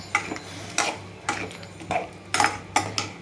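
A spoon scrapes and knocks against a pot while stirring channa masala, in a steady rhythm, about six dull clinks over a few seconds, with a low background hum.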